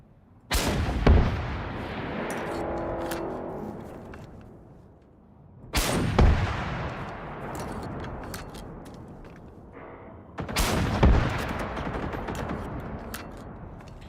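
Three heavy booming blasts of gunfire while fighting tanks in the video game Generation Zero, each hit followed by a long rumbling decay over several seconds, loud and spaced roughly five seconds apart.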